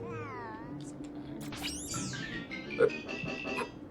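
A cartoon cat in Pac-Man 2: The New Adventures lets out a few meows and a rising yowl amid chirpy game music and effects, near and moderately loud.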